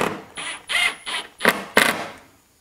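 Short whirring, ratcheting bursts come up close as a power driver snugs plastic screws on a new OEM headlight for a Honda S2000, about five bursts with brief gaps between them.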